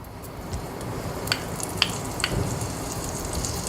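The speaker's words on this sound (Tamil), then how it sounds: "பேன் நல்லா சூடாயிடுச்சு. அதில் வந்து கொஞ்சம் வெண்ணெய் க்யூப்ஸ், சும்மா ஒரு 4-5 வெண்ணெய் க்யூப்ஸ் வந்து சேர்த்துக்கோங்க." A few butter cubes melt in a hot pan, giving a light, steady sizzle broken by several small sharp pops and crackles, close and moderately loud, with no speech.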